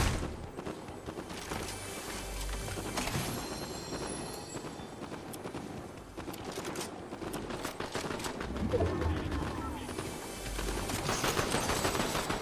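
Dual SMGs fire in dense, sustained rapid bursts amid loud game action and clatter in Resident Evil 4 Remake, continuous throughout with no talking.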